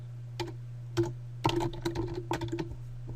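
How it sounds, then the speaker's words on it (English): Short bursts of keystrokes on a computer keyboard, close and clear, with pauses between the groups of clicks and a steady low hum underneath. "I'm going to type welcome"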